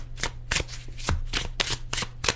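Tarot cards are shuffled close up in a quick series of crisp riffling bursts, about seven sharp flutters in a steady rhythm with no talking.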